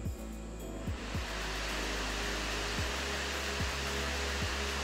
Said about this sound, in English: Leave the fan switch on auto. Switching it to max is like readying a plane for takeoff.